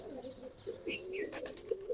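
Pigeons coo softly in a rooftop garden, several low throaty calls rising and falling over about two seconds, close by and calm with no talk.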